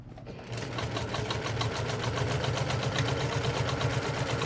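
Sewing machine stitching a tote bag, a steady fast mechanical whir and needle chatter running continuously and close after a brief quieter start.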